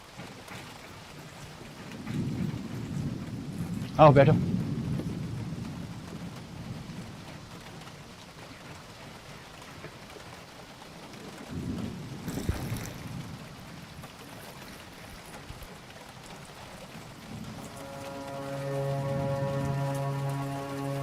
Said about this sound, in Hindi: सुबह तो बिल्कुल नहीं लगा था कि बारिश पड़ेगी, लेकिन अब देखो।